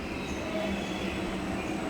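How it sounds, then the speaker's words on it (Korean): A KTX-EUM train pulls into Mungyeong station, a steady, continuous rumble of rolling stock heard alone at moderate loudness, with no voices over it. "충주역에서 출발한 KTX 이음 열차가 문경역에 도착했습니다."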